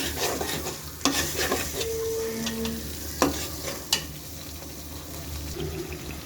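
Beef with ginger and garlic is stirred in a sizzling pan: a continuous fry hiss with several sharp spoon knocks and scrapes against the metal, close and clear.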